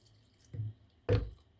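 Water poured a little at a time into a bowl of dough mixed with sugar and salt for a feteer pastry: two brief, soft splashy pours separated by a short pause, close and quiet.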